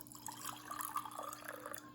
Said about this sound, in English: we're going to fill it with preferably warm water